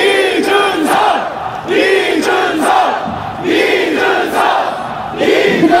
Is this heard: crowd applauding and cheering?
yes